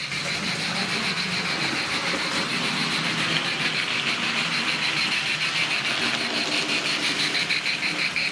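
A second-hand model train runs around its track with a continuous whirring motor and light rhythmic clicking from the wheels, steady and close throughout.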